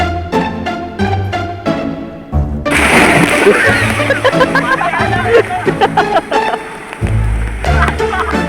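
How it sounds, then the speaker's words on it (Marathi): People jump and splash in pool water beside a small artificial waterfall at a farmhouse, with loud repeated splashes and sloshing under lively crowd chatter and laughter. "सगळं मस्त पैकी पाण्यामध्ये उड्या मारतायत"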